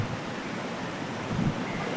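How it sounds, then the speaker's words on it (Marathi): Sea waves near the Suvarnadurg fort on the coast, a steady broad wash of surf with gusty wind noise on the microphone, continuous and fairly loud, one slightly stronger surge toward the end, no voices. "बघा समुद्र"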